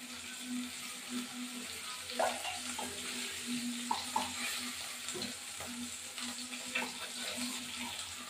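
Steady sizzling of fish frying in hot oil, with a few light clinks and scrapes on top, close by and continuous.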